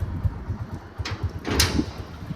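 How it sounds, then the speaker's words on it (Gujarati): A door being closed during a Rajkot outing, heard as a brief sliding scrape and a soft thud over steady background rumble and noise. "દરવાજો કરી દે બંધ"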